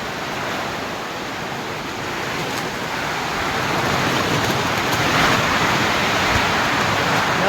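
Heavy rain roars steadily with wind gusting through it, a dense, unbroken wash of noise that swells slightly toward the end.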